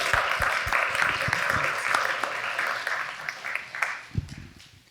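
A room of people applauds the Silver Lake Board of Directors at a community board introduction, a dense burst of clapping that gradually thins and fades, ending in a few scattered claps.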